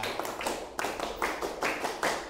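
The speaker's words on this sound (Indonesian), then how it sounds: "Tepuk tangan untuk kelompok 2" A classroom applauds a student group, a dense burst of many hands clapping at close range in steady waves for a couple of seconds.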